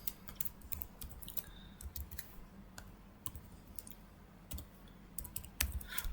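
Close, quiet keyboard typing as code is entered to make an LED blink in a Proteus circuit simulation, uneven bursts of soft clicks with brief gaps and no speech.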